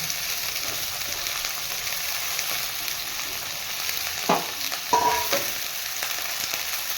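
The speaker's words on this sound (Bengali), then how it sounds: "সবজিগুলো দিয়ে এবারে ভালো করে ভেজে ওটাকে তুলে নেবো" Mixed vegetables fry in hot oil with a continuous loud hiss, and a couple of short spatula scrapes and knocks come near the end.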